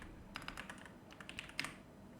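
Quiet typing on a computer keyboard, a short run of soft, close key clicks in irregular clusters over a faint background hum.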